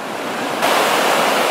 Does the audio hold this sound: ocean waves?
yes